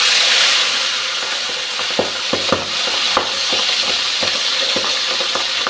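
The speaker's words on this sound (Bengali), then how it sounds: "পাবদা মাছগুলো অল্প ভাজবো।" Pabda fish fry in a pan with a loud, steady sizzle close by, broken by scattered sharp scrapes and taps of a spatula moving the fish, with no talking.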